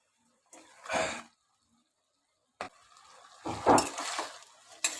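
Potatoes tumble into a pan of sweet pumpkin greens cooking for a fish-head dish, giving two short bursts of clattering and stirring close by, separated by a quiet gap.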